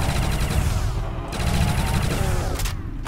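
Rapid automatic fire from a USAS shotgun in World at War custom zombies, a dense, loud, continuous volley of blasts lasting about three seconds with no talk.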